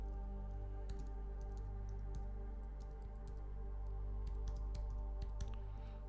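Typing on a computer keyboard, soft scattered key clicks in quick irregular bursts over a low steady hum, faint and close.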